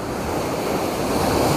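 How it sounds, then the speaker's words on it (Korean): Strong waves break on a wide East Sea beach at Goraebul, a steady, loud roar of surf with some wind in the microphone and no voices. "오늘 바람이 그래도 많이 불지 않아서 다행이네요. 파도는 세고요."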